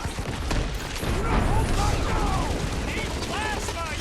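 Plasma gunfire in the video game Marvel's Guardians of the Galaxy, a loud burst of rapid shots and booms during a battle with a giant beast, mixed with creature cries and chaotic combat noise.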